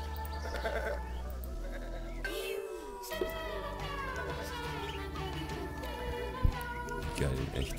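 Cartoonish sheep bleats from the point-and-click game Botanicula, several wavering calls over a soft musical game background, with someone talking over part of it.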